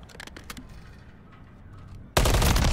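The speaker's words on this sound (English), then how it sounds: "Nice shots." Gunfire in Call of Duty Modern Warfare III: several sharp, close shots crack in quick succession, then after a quieter stretch a sudden loud burst of sustained fire erupts at the end.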